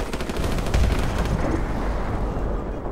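Dense in-game gunfire from Call of Duty: Modern Warfare Remastered during an urban battle, with steady overlapping shots and bursts forming a continuous loud roar that peaks briefly before easing slightly.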